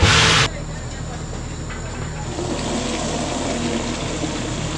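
Water rushing through a pipe at a borewell drilling site, a steady loud hissing gush that starts with a brief harsher burst and then settles into a continuous broadband rush.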